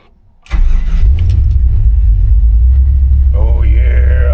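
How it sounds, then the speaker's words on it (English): A truck engine cranks and catches, then settles into a loud, deep, steady rumble up close, with a brief higher whine near the end. "Let's fire this truck up here."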